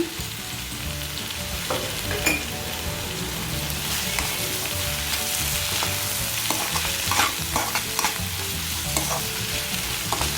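Squid masala with onion and tomato sizzles steadily in a pan. A spatula scrapes and taps it in repeated stirring strokes, close and fairly loud, with no talking.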